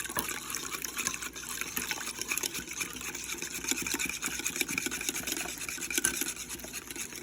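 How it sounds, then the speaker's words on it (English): Warm liquid being blended into eggs for waffle batter, a steady wet churning and gushing wash that stays fairly even and close throughout, with no talking. "I'm going to start blending this to the eggs"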